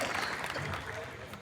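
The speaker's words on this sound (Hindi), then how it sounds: "एक बार जोरदार ताली" An audience at a Hindi poetry gathering (kavi sammelan) breaks into a short burst of applause, clapping briefly over the hall's ambience with voices mixed in.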